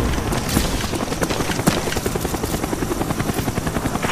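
Cobra attack helicopter in Call of Duty: Black Ops on the Hanoi map, a steady rotor thrum with rhythmic blade pulses running loud and continuous through the whole stretch, mixed with game noise.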